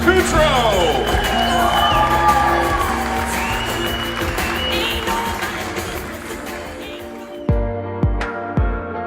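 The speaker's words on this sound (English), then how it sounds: "Big round of applause for the bride and groom" Wedding guests cheer, whoop and clap for the newly married bride and groom, a dense crowd roar with shouts that gradually thins out, ending in a few scattered louder claps and bursts near the end.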